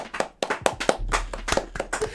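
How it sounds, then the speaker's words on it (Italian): Close applause, heard as a quick run of crisp, evenly spaced claps lasting about two seconds. "Un applauso."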